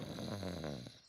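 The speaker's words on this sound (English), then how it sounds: "It sounds like snoring." A cartoon pig snores at a camping site with slow, rumbling, throaty breaths, faint and steady throughout the short moment.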